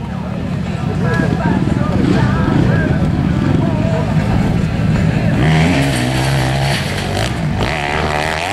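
A motorcycle on a hill-climb competition course roars up the slope under loud commentary in Estonian, its engine note rising and shifting as it climbs.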